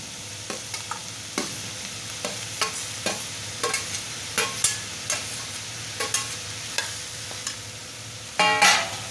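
Onion with turmeric and tomatoes sauté in a pan for a bread tomato sandwich filling, a soft steady sizzle punctuated by a regular series of sharp spatula taps and scrapes, one louder clatter at the end, no speech.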